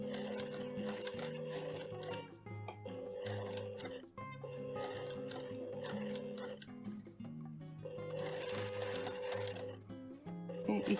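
A sewing machine stitches a patchwork appliqué slowly along a tight edge, its steady rhythmic needle clatter running continuously throughout with only brief pauses.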